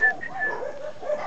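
A dog gives a short run of high, close yips and whimpering barks, lasting just over a second with no talking.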